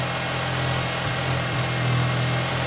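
A Yamaha TMAX scooter engine idles steadily after a carburetor clean, giving a close, even, low hum with a faint wavering in pitch and no talk over it.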